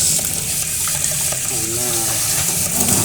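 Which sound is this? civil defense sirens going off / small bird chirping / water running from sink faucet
water running from sink faucet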